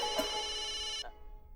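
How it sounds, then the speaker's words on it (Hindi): A telephone rings with a bright, steady electronic trill for about a second, then stops, leaving a faint room hum. "अरे मेहता साहब का फोन।"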